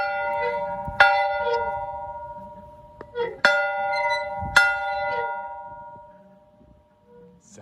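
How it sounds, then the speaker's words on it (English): A large bell rings outdoors with three strong, resonant strikes spaced about a second apart. Each strike leaves a long, shimmering decay over a faint, low background rumble. "A bell."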